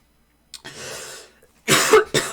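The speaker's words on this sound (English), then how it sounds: "Pardon me while I toddler cough all over." A woman coughs close by, first one short cough, then a longer rough exhale, then two harsh coughs in quick succession, with quiet around them.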